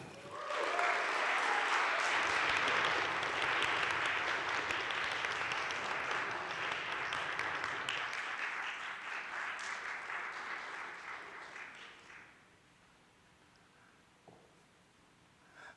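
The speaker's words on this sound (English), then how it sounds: "So let's welcome with grand applause and jazzy snaps, Amos Paul Kennedy Jr." Broad audience applause at a college convocation, loud and dense for about eight seconds, then thinning and fading out to near quiet by twelve seconds; no distinct snaps stand out.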